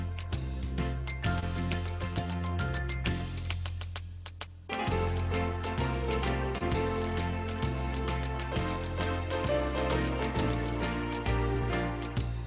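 Electronic keyboard auto-accompaniment in a Tap Soft Shoes rhythm style plays a bright, bouncy pattern with steady bass and chords, looping continuously at a lively tempo with a brief dip midway, with no talking over it.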